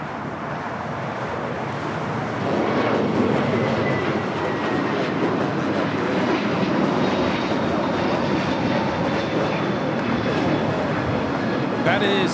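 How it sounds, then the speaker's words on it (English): A Frontier Airbus A321neo takes off at Los Angeles International Airport, its engine roar swelling loudly after a couple of seconds and holding a steady, broad jet rumble with a faint whine, while voices talk faintly underneath. "4316 taking off to Atlanta on the A321 Neo."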